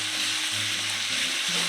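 Meat sizzling and frying in a hot pan, a steady close crackle with a faint low hum underneath, no voices.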